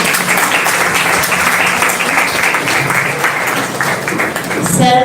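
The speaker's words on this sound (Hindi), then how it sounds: "अब अवसर होगा अतिथि स्वागत के लिए, जोरदार तालियां बजाएंगे" Audience at a one-day college education workshop gives loud applause to welcome guests, continuous clapping filling the hall with some murmured voices underneath.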